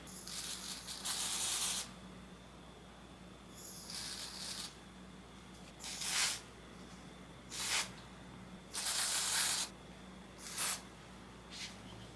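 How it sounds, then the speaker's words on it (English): An aerosol can of hair color spray hisses in repeated short bursts onto hair roots, six or seven sprays of varying length separated by brief pauses, close by. "I have some High Beams Intense Color that I'm going to spray the roots with"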